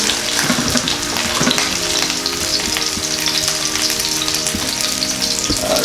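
Pieces of fish or meat for Filipino escabeche frying in hot oil, a steady dense sizzle with occasional crackles and a few soft knocks as they are moved, close and continuous throughout.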